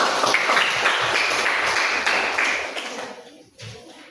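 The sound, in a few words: classroom applause for the teacher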